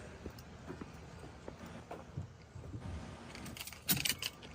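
Car keys for a custom muscle car with a 512 stroker engine jangle briefly near the end amid faint handling noises and soft footsteps, fairly quiet and close.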